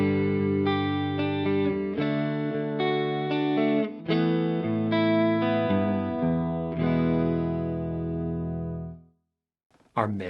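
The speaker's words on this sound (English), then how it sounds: "Or maybe you want more chorus than dry sound." Electric guitar chords run through a Fractal chorus effect with the wet chorus mixed louder than the dry signal, a sequence of sustained, shimmering strums that ring out and fade near the end.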